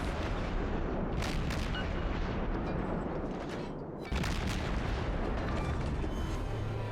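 Destroyer USS Benson trades naval gunfire in the World of Warships video game, with dense rumbling booms and blasts layered over a constant loud battle roar, continuous through the whole stretch.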